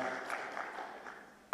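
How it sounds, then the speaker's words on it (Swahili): Audience applause at a formal Tanzanian book launch ceremony, steady faint clapping from a crowd throughout, with a louder burst right at the end. "Naomba tupige makofi mengi."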